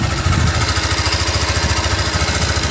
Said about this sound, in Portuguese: Motor perfeitamente funcionando.